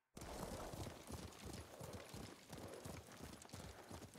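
Horse hooves clop rapidly and steadily at a gallop in the samurai video game Ghost of Tsushima, loud and close, running without a break from the start.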